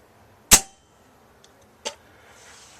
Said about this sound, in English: The first noise you'll hear will be the safety.